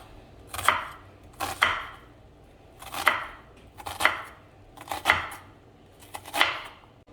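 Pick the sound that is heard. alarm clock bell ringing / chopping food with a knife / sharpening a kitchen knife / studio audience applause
chopping food with a knife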